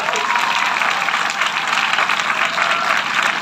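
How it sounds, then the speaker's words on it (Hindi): Loud, sustained applause from a school audience welcoming a top-scoring student at a senior secondary school toppers' felicitation, dense steady clapping throughout with no break. "हरीश जी सांवरिया के लिए जोरदार तालियों से स्वागत करें"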